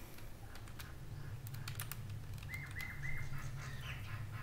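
Soft, quick keystrokes clatter on a computer keyboard as VBA macro code is typed, quiet and close, with faint bird chirps in the background.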